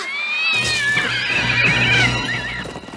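Cartoon horses meant to pull a carriage let out a loud, drawn-out whinny, a single shrill neigh lasting about two seconds, close and alone.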